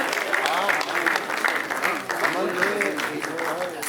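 An audience at an agricultural science event in Uttar Pradesh applauds young scientist award winners, steady dense clapping lasting throughout with a voice speaking over it.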